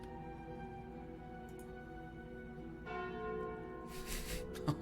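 The Calling Bell relic in Slay the Spire rings with sustained, resonant bell tones over game music, swelling with brighter bursts near the end.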